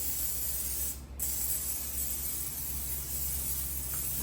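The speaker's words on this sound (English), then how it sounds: "Should I spray this, you think?" Cooking spray, a fake-butter type, sprayed from an aerosol can onto a casserole dish for a sausage breakfast casserole: one short hissing burst near the mic over a steady background hum.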